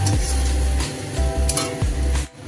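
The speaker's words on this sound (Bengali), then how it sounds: "এবার ভালো করে মশলাটাকে কষে নিতে হবে।" Onion and tomato paste masala for a katla fish curry is stir-fried in a pan, a loud, close, continuous sizzle with a spatula scraping and stirring through it.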